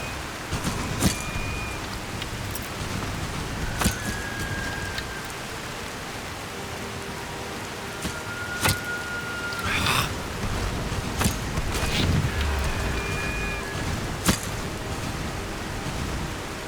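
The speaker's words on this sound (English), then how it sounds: "Need to get out of this bleeding rain though. It is soaking me through." Steady rain hisses over the whole stretch in modded Skyrim, a dense wash of falling drops broken by occasional sharp taps and soft thumps, with faint whistling tones drifting in the background.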